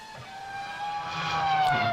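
An F1 race car on a qualifying flying lap at Monza in a racing game: a high-pitched engine whine rises steadily in pitch and loudness over two seconds as the car approaches, with no voices.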